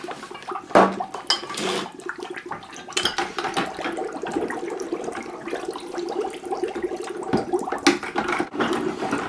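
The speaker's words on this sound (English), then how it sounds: "So I just dunk them in the water." Sloshing and splashing sanitizing water with clinks, as glass beer bottles are repeatedly dunked and swirled in a basin, close by with uneven bursts.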